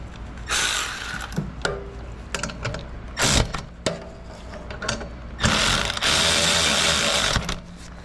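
A hand ratchet clicks in short bursts while tightening the rear brake bolt on a 2017 Indian Scout Sixty motorcycle, with metallic clatter and pauses between strokes, close by.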